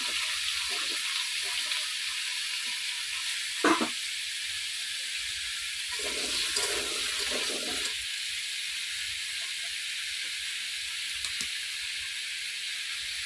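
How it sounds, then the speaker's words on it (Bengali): Vegetables such as potato, papaya and eggplant frying in oil in a wok for a Kali Puja offering meal, a steady broadband sizzle and hiss with a few brief louder crackles, close and continuous. "আর বেগুনটা আলাদা ভেজে নেবো।"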